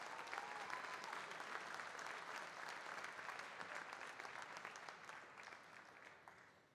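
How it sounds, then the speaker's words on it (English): Audience applause fills a hall at the 75th annual Salesianum alumni sports banquet, a dense, steady clapping from a large crowd that holds for several seconds before gradually tapering off. "Thank you for all of that wonderful applause"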